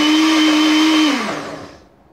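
A blender on pulse whirs loudly at a steady pitch while mixing lemon mousse, then cuts off and spins down to silence, close and alone.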